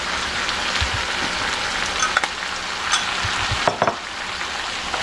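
Shrimp scampi with butter and lemon juice sizzling steadily in a pan, with a few soft scraping stirs and utensil taps over the continuous frying hiss, close and moderate in level.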